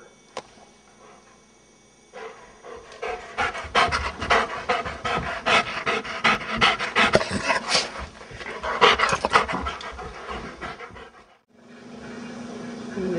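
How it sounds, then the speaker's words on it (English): A dog pants rapidly and loudly close up, with quick rhythmic breaths that build and continue steadily before a brief pause near the end. "This is your dog."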